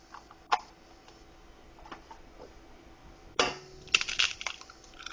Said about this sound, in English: We'll crack open 2 eggs.